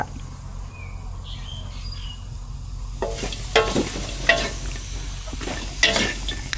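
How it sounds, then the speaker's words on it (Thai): Mushrooms, including hed thob, being stir-fried over low heat for a vegan herbal dish: a soft steady sizzle with irregular scraping stir strokes joining after a few seconds, with faint bird chirps in the background and no talk. "ใช้ไฟอ่อนๆนะคั่ว"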